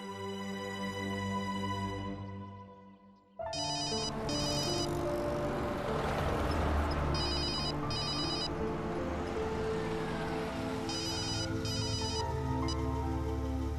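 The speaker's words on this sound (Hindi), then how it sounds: "मैं उन्हें फोन कर देती हूँ।" A telephone rings repeatedly in regular double bursts while a call is being placed during a Hindi TV drama episode, loud and steady over a dense background score, with no talking.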